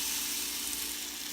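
Four slices of egg-dipped, dairy-free French toast frying on a smoking-hot griddle give off a steady, close hiss of sizzling with no pauses.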